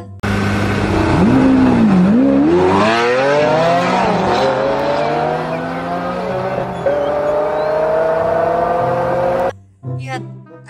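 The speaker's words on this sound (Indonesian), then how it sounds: "Lihat, ada mobil balap teman-teman." A race car accelerates hard with a rising, gear-stepping engine whine that climbs in pitch, loud and close, then cuts off abruptly near the end.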